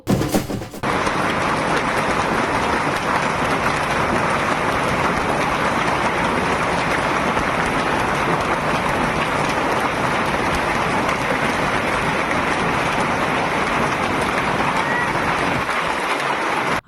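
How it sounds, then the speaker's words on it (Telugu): A heavy downpour roars steadily and loudly, a dense unbroken wash of rain after a brief clatter at the very start. "ఏం వానలు."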